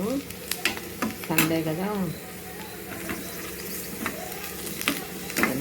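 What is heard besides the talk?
onions frying for biryani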